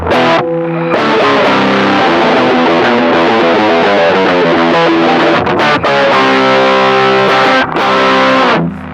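A loud distorted electric guitar plays a lead riff of sustained, saturated notes, with a couple of short pauses and a quick chord hit near the start.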